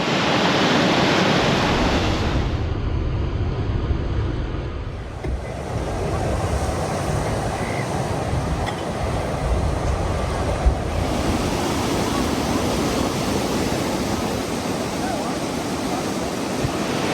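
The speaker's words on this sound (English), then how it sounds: "This is also a strong surf beach here" Strong surf at Short Point Beach on the northern headland of Merimbula on the Sapphire Coast, a loud, continuous roar of breaking waves and wash that fills the scene without letting up, with no one talking.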